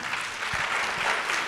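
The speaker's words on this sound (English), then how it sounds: "He deserves an applause again." Applause from a lecture audience for a keynote speaker at a public lecture session, a steady wash of clapping that stays even and fairly close for its whole short length, with no voices over it.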